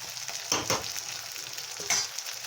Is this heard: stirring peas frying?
yes